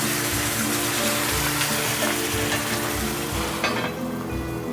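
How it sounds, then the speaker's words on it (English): Steady, loud sizzling and bubbling as chicken stock hits meatballs in a hot frying pan, continuous throughout. "So we're going to add chicken stock to these."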